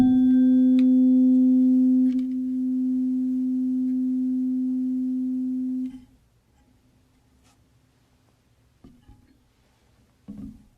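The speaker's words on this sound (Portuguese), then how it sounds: "Como as frequências de vibração dos 2 diapasões são praticamente iguais, a energia de vibração de um deles é transmitida para o outro através do som" A pair of matched tuning forks on wooden resonance boxes sounds a steady, pure humming tone that holds for about six seconds, then fades to a faint lingering ring, with a few small knocks toward the end.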